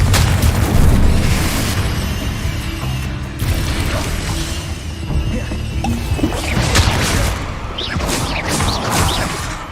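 Confringo fire spells in the Hogwarts Legacy game blast repeatedly, loud booming explosive bursts with crashing, clattering impacts arriving every couple of seconds amid busy combat noise.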